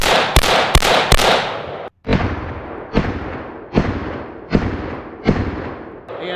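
Rifle shots with 77-grain rounds fired into a 60-inch LED TV: three quick sharp cracks, a short pause, then five evenly spaced loud reports, close by.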